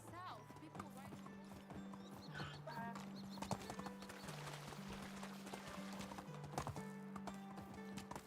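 Rhythmic clip-clop of horse hooves galloping in the medieval video game Medieval Dynasty, steady hoofbeats under game music, with a horse whinny and a voice talking over it.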